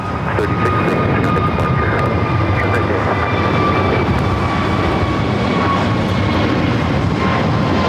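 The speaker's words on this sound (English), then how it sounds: "This is American Airlines 636 taking off to Charlotte on the A321neo" An American Airlines A321neo bound for Charlotte takes off from LAX, its engines a loud, sustained roar with a few steady whining tones over a dense broadband rush, plus brief clicks.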